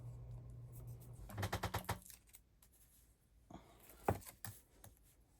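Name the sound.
adhesive tape being handled for sewing a crossbody bag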